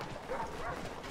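A dog barks in the video game Assassin's Creed 3, a short yelping call set against a dense, continuous game backdrop of ambient noise and hoofbeat-like clatter, moderately quiet.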